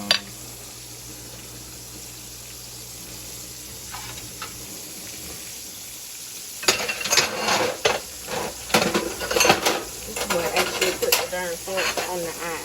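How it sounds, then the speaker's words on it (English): Beef liver browning in a frying pan, a quiet sizzle at first, then louder clattering and scraping of a spoon and utensils against the pan with frying crackle, close up. "So I can take this liver out because again, you're just browning it."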